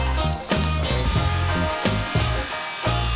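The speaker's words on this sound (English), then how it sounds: "I'm cutting my pieces to length, so 45-degree angles on either side" A power saw makes 45-degree miter cuts through wood pieces, with a steady motor whine and repeated rhythmic bursts as each cut is made, loud and close with no talking.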